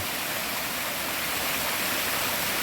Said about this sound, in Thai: เป็นน้ำตกเล็กๆนะแต่ว่าก็ ได้บรรยากาศ